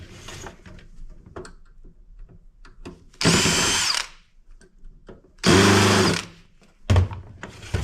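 A power drill removes screws from electronic scrap, giving two loud whirring runs of about a second each plus a shorter final burst, with small clicks and handling clatter in the quieter gaps between.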